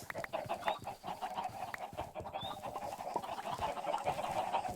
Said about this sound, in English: Ooh, we have a lot of chickens.